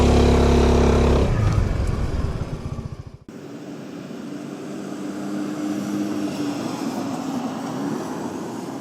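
A Suzuki Burgman 400 scooter pulls away, its engine note loud and close at first, then cutting off abruptly after about three seconds, leaving a steadier, softer running drone.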